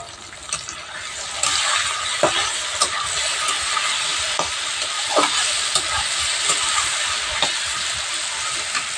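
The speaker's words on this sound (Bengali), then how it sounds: "এবারে চাপা দিয়ে দেবো, দিয়ে আস্তে আস্তে জাল করে ভেজে নেব।" Ivy gourd (kundri) frying in a covered pan, a steady close sizzle with occasional sharp crackles and pops throughout, no voices.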